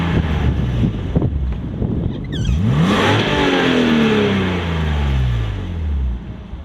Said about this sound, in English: And then the roar of the 6-cylinder engine.